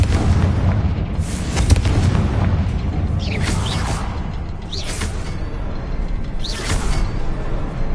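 Spell explosions from the video game Hogwarts Legacy, cast as Bombarda and Confringo: heavy booms and whooshing bursts land one after another over a constant rumbling background, loud and close.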